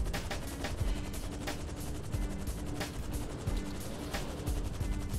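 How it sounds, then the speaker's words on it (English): Dense, continuous gunfire in GTA 5 Online, a rapid burst of overlapping shots and impacts with steady rumbling underneath, loud and sustained through the whole stretch. "We're going down in a hail of gunfire."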